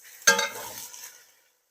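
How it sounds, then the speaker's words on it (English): Potatoes and peppers tumble into a pot of sautéed, translucent onions while chili cooks, giving one sudden bright clatter and sizzle that tapers off over about a second, then silence. "So now I'm going to add in the potatoes and the peppers."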